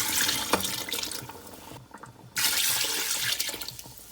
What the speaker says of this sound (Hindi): ये मैंने इसके अंदर 3 गिलास पानी ऐड किया है।